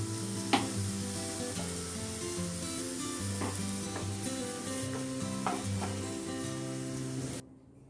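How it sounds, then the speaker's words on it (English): Fried mushrooms for a black pepper mushroom fry being scraped and moved from a pan into a bowl, with a steady sizzle of oil underneath and a few sharp utensil scrapes and clinks, all close and continuous until it cuts off abruptly. "Let me transfer all this mushroom to a bowl"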